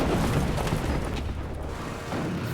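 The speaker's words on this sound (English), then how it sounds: "The violent explosion tears a huge hole in the hull." A torpedo strikes the stern on the port side of the battleship Bismarck. The explosion is a deep, heavy, sustained rumbling boom that fills the whole moment.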